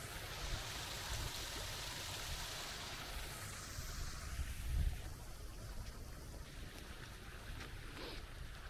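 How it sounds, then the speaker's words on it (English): Small waterfall on a river, a steady broadband rush of falling water close by, with a brief louder surge midway, alone without voices. "I'm not even sure if you can call it a waterfall because it is so small."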